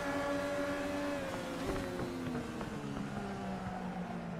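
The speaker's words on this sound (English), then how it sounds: "You could hear the tyres screeching as he tried to get to a stop" A race car brakes hard during a circuit race at Snetterton, its engine whining down in falling tones as the tyres screech, with the sound steady and fairly loud and no talk.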